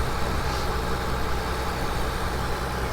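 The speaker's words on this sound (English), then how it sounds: "here we have our naturally aspirated V12 engine" The naturally aspirated V12 engine of a 2008 Mercedes-Benz SL600 idles steadily nearby, a smooth, even low rumble with no changes in pitch.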